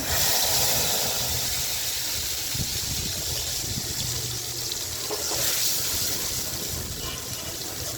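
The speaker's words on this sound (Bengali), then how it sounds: "তো এখানে আমি সব মশলা মিক্স করে নিলাম, এখন তেলের মধ্যে দিয়ে দিব।" Vegetarian spice mix hitting hot oil in a pan, a loud, continuous sizzling hiss close up that stays dense and bright for the whole stretch with no voices.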